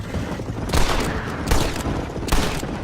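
Three heavy gunshot bursts ring out about once every 0.8 seconds during a shooting competition in Red Dead Redemption, each one loud and close with a rumbling tail over a busy background.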